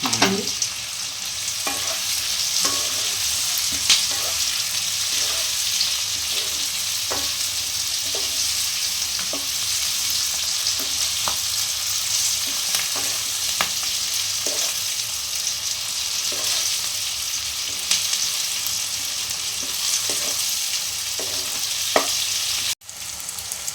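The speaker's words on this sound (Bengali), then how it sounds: "এটা কিন্তু বেশি ফ্রাই হবে না, হালকা হালকা হবে। ক্যাপসিকামটা দিয়ে দিলাম।" Capsicum fries lightly in a pan for soybean chilli, giving a continuous bright sizzle with regular scraping and stirring strokes throughout. A louder knock comes near the end, and no one speaks.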